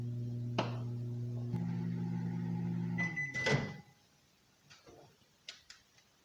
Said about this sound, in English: We're still not rolling around, so more time in the microwave.